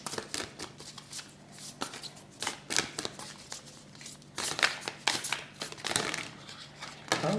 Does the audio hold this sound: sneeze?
no